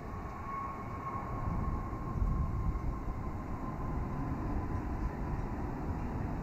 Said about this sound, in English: here comes our Tokyo arrival on the Dreamliner